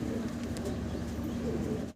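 Fancy pigeons kept for sale coo softly and steadily in a low, rolling murmur, with faint wing and cage rustles over a constant background hum.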